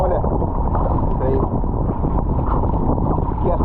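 Wind buffets a kayaker paddling at sea along the west coast of Ireland between Moyard and Leenaun, a loud, steady roar pressing close on the microphone throughout.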